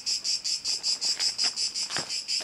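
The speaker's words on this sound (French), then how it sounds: "c'est bon les grillons, c'est bon les cigales" Crickets and cicadas chirp outdoors in a steady pulsing rhythm, about five bursts per second, close and clear, with faint clicks and rustles in the background and no voices.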